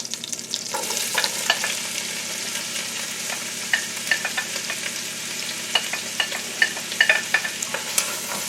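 Chopped onion, celery and carrot sizzle steadily in melted butter in a pan, a close, continuous fry with scattered pops and spatters and no talking.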